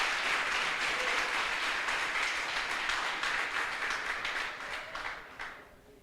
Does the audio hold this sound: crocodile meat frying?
no